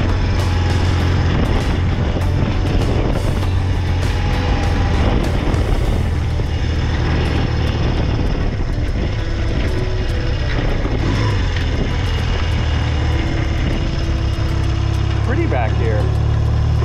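A BMW airhead motorcycle engine drones steadily while riding on a road in Edgewater, Florida, with constant low rumble and wind noise throughout, and someone talks over it.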